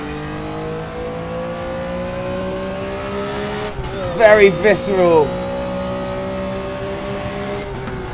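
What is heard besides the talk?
race car engine revving in RaceRoom racing video game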